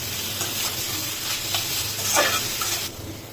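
Beans and capsicum stir-fried for vegetable fried rice, a steady sizzle and hiss from the pan with soft scraping stirs rising and falling, and the frying noise easing off near the end.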